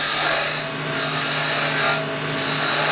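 Soft wood being turned on a lathe for a back scratcher, giving a steady, continuous loud rasping and rubbing as the tool cuts the spinning blank round, with no pauses or talk.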